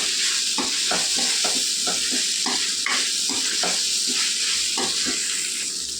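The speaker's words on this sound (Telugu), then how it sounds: "కొద్దిగా వేగనిద్దాం కారం పచ్చి వాసన పోయే వరకు" Chili powder fries in oil in a pan for vegetable fried rice, a loud close sizzle broken by a steady run of spoon scrapes and taps from stirring, no voices.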